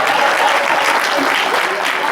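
Audience at a Hindi poetry recital (kavi sammelan) during Chaitra Navratri breaks into sustained applause, a dense, even wash of many hands clapping at steady loudness throughout, with no voices over it.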